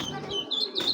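Club racing pigeons coo softly in a loft, with brief low murmuring calls and faint chirps close by.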